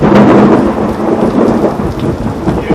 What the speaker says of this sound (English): You can tell it's raining.